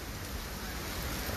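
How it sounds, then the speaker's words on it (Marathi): Heavy rain pouring down at Legoland, Dubai Parks and Resorts, a continuous broadband hiss with a low rumble underneath, steady and fairly faint with no voices. "आता जोरात पाऊस पडत आहे दुबईमध्ये"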